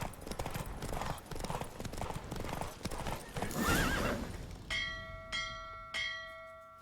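A horse gallops in The Witcher 3 video game, rapid clip-clopping hooves with a brief whinny, followed by three ringing bell strikes.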